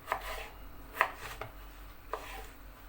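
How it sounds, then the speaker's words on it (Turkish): Three sharp knife chops on a cutting board as potatoes are cut into cubes, spaced about a second apart, fairly close and quiet, with no talking. "Şimdi patatesleri küp küp doğrayacağım."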